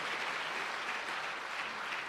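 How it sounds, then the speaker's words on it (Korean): A church congregation at an elders' couples retreat claps steadily and loudly, a dense unbroken wash of applause from a room full of people that holds at the same level throughout. "이왕 박수 칠 거 크게 한번 쳐주셔요."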